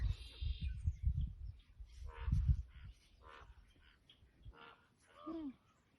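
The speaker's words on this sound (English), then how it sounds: "I hear a raven." Raven calls ring out outdoors during a relic hunt, with a few harsh croaking notes rising faintly over low rustling and handling noise, the clearest call near the end.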